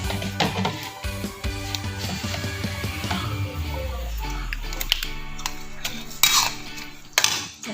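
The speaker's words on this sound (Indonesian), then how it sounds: "kita tambahkan minyak guys, dan kita masukkan semua bahan yang tadi ya, yaitu cabai hijau, lengkuas, daun jeruk" Green chili, galangal and lime leaves are stir-fried in a pan, with repeated close metallic scraping and clinking of a utensil over a low sizzle, and no voices.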